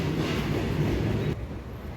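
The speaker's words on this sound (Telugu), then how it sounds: "ట్రైన్ ఎట్టకేళ్ళకి వచ్చేసింది" A crowded passenger train rolls into a station with a steady low rumble and rattle of wagons that holds loud and close, then suddenly drops to a quieter hum near the end.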